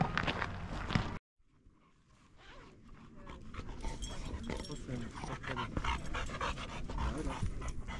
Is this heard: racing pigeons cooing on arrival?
no